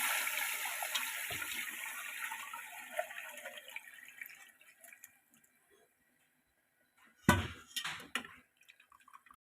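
Strained broth pours into a pot of cooking beef trotters in a home kitchen, a close liquid rush that tapers away, followed after a pause by a few splashes and clinks.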